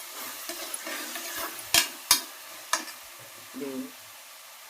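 Curry leaves hit hot oil with green chilli and tomato pieces for a country chicken curry, giving a soft sizzle under several sharp spoon knocks and scraping stirs against the pan, close and fairly quiet.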